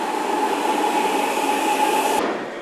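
A Gwangju subway train runs with a steady, loud rushing roar and a sustained tonal whine, then the sound drops away abruptly near the end, with no voices.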